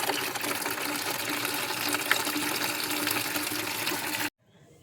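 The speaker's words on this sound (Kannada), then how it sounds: "ಇದನ್ನು ತೊಗೊಂಡು ಈಗ ಇದಕ್ಕೆ ಹಾಕಿ ಸ್ವಲ್ಪ ನೀರನ್ನು ಮಿಕ್ಸ್ ಮಾಡ್ಕೊತೀನಿ" Water pours steadily into a container to mix a homemade liquid plant fertilizer for flowering garden plants, a continuous close splashing rush that stops abruptly near the end.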